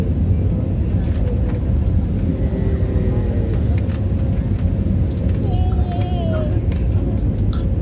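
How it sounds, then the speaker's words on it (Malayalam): Cabin rumble of an airplane descending toward the Delhi airport runway, a loud continuous engine and airflow roar with a voice talking over it throughout. "റൺവേയിലേക്ക് നമ്മളിപ്പോൾ ഇറങ്ങുകയാണ്"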